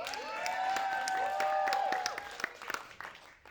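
A theater audience at a stage show in Harlem claps and cheers as Hakeem walks onto the stage. A warm, sustained wash of applause thins into a few scattered claps before fading.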